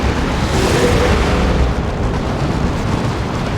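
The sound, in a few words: grenade explosion in Dawn of War 2 video game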